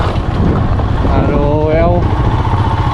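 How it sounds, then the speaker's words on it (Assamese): Motorcycle on a solo long-distance ride from Assam toward Ladakh through Punjab, its engine droning steadily throughout with wind buffeting the microphone, while a rider's voice talks over it. "মই বাইক লৈ গৈ আছোঁ লাডাখ চলো"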